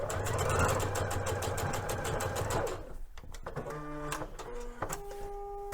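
A sewing machine stitches straight through a fabric triangle on a Liberty London palazzo suit, a fast even whirring run that stops partway, followed by a few short stop-start bursts.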